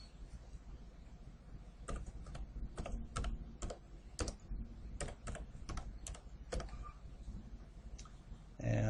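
Quiet typing on a computer keyboard entering a search, a run of light clicking keystrokes at an uneven pace, close but soft over faint room noise.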